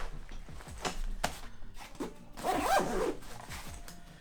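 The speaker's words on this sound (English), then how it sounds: "These number 10 YKK zippers are very nice." A YKK number 10 zipper on a bag is pulled along in a few quick strokes, close and crisp, with a longer rasping run near the end and no talk.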